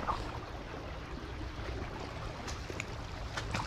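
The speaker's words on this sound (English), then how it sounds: "Oh, look at that. Nice little waterfall area." Small waterfall in a creek seen on a morning walk, a continuous close rushing and splashing of falling water with scattered brighter drips and splashes, no one talking.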